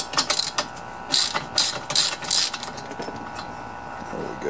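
A wrench ratcheting while removing the wheels from a lawn mower during a repair, close bursts of rapid clicking in several quick runs, then quieter mechanical rattling.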